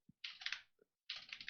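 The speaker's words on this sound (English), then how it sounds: "if I can figure out how to type here" Quick bursts of typing on a computer keyboard, two clusters of clicky keystrokes separated by a short pause, close and fairly quiet.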